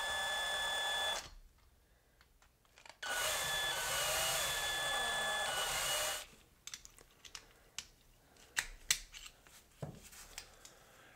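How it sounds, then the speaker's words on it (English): Small rivets on a Matchbox Ford Mustang wagon diecast model car are drilled out in two loud, close bursts of whirring drill noise, followed by quieter clicks and handling sounds. "We're gonna have to drill."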